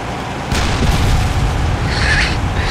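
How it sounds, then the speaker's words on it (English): A vehicle blows up in the Arma 2 game, a loud low boom that rises abruptly and rumbles on, with a brief rushing burst following, close and alone without talk. "The vehicle just blew up"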